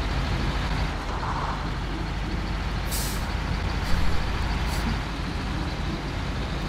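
A truck in the SnowRunner game rumbles along in a dense, steady engine drone, with brief hissing bursts over the loud continuous noise.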